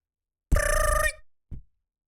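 A telephone gives a single clear electronic ring burst of about half a second, then a brief muted clunk as it is picked up, with silence before and after.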